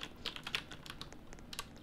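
Rapid typing on a computer keyboard during a Roblox Track and Field Infinite game, with quick, light, close key clicks running steadily and no talk.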